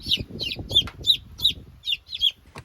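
A hen clucks in a quick series of soft, close calls, roughly eight in under three seconds, each with a brief higher note that could be a chick peeping alongside.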